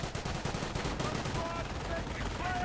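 Machine gun fire in a World War II strategy game, Wehrmacht MG crew pinning British troops: dense, continuous rattling bursts of automatic gunfire with battle noise throughout, loud and close, with faint voices underneath.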